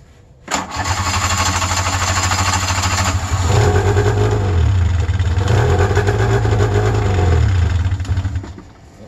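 An electric-start snowmobile engine cranks and catches, then idles roughly and revs up and down several times, loud and close, with no voices.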